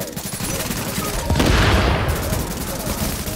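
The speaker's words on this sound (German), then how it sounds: "Wow, die werden ja ordentlich bebombardiert hier." Dense, continuous gunfire and explosive bombardment from the video game The Division, with rapid overlapping shots rolling throughout and a louder burst of blasts in the middle.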